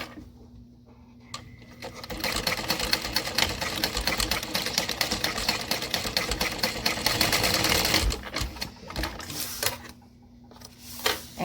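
A sewing machine stitches a seam on a backpack, giving a close, steady rapid needle chatter that runs for several seconds, slows, then gives a few short bursts at the end, with no talking.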